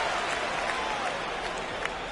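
A home crowd in the NBA 2K25 basketball video game keeps up a loud, continuous roar and applause late in the fourth quarter, with a faint commentator voice buried beneath.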